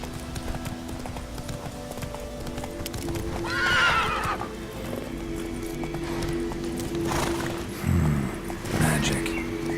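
Hooves clip-clop steadily beneath a game's ambient score as a horse gallops in The Witcher 3, with a loud whinny near 4 seconds and another neigh near 8 seconds.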